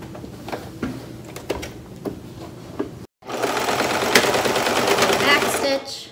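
Sewing machine stitching a fabric tie for a handmade mask, first slow separate stitch clicks, a short pause, then a steady close whirring run ending in a brief back stitch.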